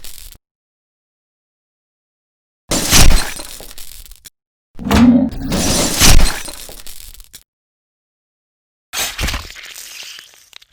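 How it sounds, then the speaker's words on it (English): Designed fleshy bite impact effect: several sharp, crunchy bursts with a crackling, shattering texture, separated by dead silence, loud and close with no talk. "that's a great initial bite impact"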